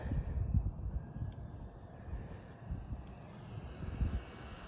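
A budget Jiusi PT14R RC truck driving at full throttle, heard as a steady whirring, rushing drone with wind buffeting, moderately loud and continuous for several seconds with no voices.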